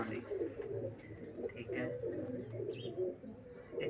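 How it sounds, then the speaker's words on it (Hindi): Teddy pigeons coo softly and repeatedly in a loft, with low, throaty murmuring calls overlapping each other. Someone talks quietly over them. "एक है टैडी कबूतर"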